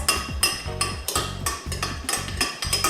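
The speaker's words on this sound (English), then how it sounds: "So stirring the oil and the peppers" Oil and pepper being stirred for a vinaigrette dressing, heard as rhythmic clinking and scraping of a utensil against a bowl, repeated about every half second, close and clear with no talk.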